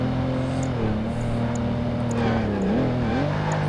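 A Jaguar E-Type driving through a British town in Project Gotham Racing 2, its steady engine drone holding a constant pitch that dips and rises briefly as revs change, loud and continuous throughout.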